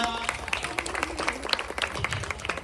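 Women at a Navratri games event clapping for the game winners, a short burst of dense, enthusiastic applause from a nearby group, with a few voices mixed in.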